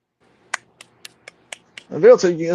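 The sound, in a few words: golf clap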